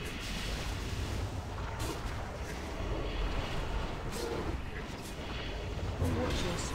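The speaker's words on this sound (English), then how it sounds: "Barrage is incoming, watch out." Barrage explosions rumble during the Mimiron fight in World of Warcraft's Ulduar raid, a dense continuous roar of booms and blasts with game effects layered over it and voices talking underneath.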